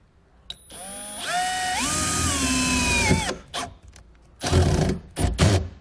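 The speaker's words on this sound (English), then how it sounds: "I'm going to take the included self-tapping screw and a 5/16 nut driver" A power driver with a 5/16 nut driver bit drives a self-tapping screw while wiring a kit on a 2019 Toyota, a whining motor that rises in pitch, then stops, followed by short bursts, close, no talking.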